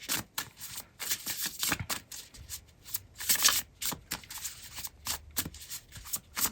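An oracle card deck being shuffled during a card reading, a steady run of crisp riffling and flicking bursts close by, repeating rhythmically throughout with no talking.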